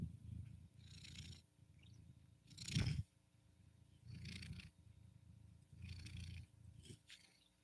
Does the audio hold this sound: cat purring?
yes